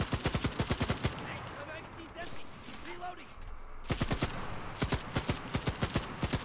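Rapid automatic gunfire bursts from a video game shooter, loud and close, firing in clipped rhythmic volleys at the start and end with a brief lull of quieter battle noise between.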